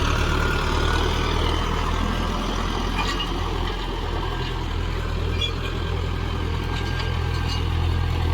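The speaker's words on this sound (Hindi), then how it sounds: "लो के 5वें गियर पर ट्रैक्टर चल रहा है।" A Mahindra Novo 605 DI 4WD tractor runs in low-range fifth gear, its diesel engine giving a steady, close, low droning rumble that holds even throughout, with no talking.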